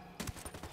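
Automatic gunfire in the Ghost Recon Wildlands video game: a quick, loud cluster of rapid shots packed into less than a second.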